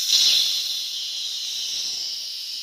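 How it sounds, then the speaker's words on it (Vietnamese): Air hisses steadily from the manual release valve on a paint pressure tank, a bright, continuous hiss that starts a little louder and then holds level with no other sound. "Còn đây là van xả tay"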